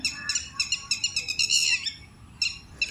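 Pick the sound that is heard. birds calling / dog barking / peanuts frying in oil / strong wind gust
birds calling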